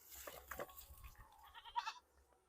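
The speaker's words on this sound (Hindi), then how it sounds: "देखिए ये है बकरी, और उसका रहने के लिए ये घर बनाया गया है।" A goat at its shed in a Gangasagar village bleats a few times, short nasal calls close by over quiet rural background.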